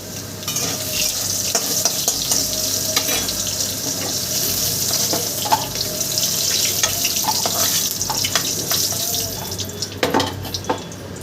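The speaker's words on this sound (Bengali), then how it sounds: "কাঁচা কলাটা প্রায় আমার ভাজা হয়ে গেছে" Raw plantain fries in oil in a kadai with a constant, close sizzle, broken by scattered clicks and scrapes of a stirring utensil, with a few louder knocks near the end.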